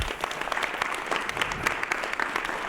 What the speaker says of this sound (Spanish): Un aplauso para Silvia Yesenia.